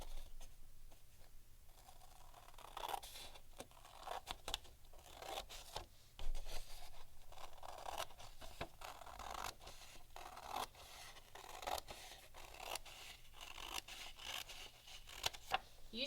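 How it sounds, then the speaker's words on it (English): Scissors snip down the middle of a sheet of paper in a quiet room, a run of crisp repeated cutting scrapes and rustles with no talking. "We're going to cut down the line in the middle."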